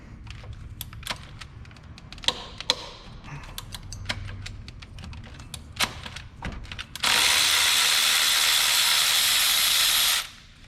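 A 13 mm ratchet works bolts behind the power steering pump on a Ford Ranger engine, giving irregular light clicks and taps for several seconds, then a loud steady hiss for about three seconds.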